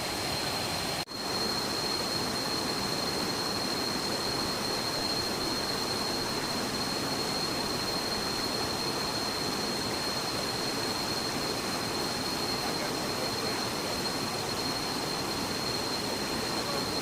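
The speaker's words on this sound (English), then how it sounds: "And this leads straight down to the waterfall" A waterfall on Koh Samui gives a constant loud, even roar of falling water, nearby and unbroken for the whole stretch, with a thin steady high whine above it and no talk.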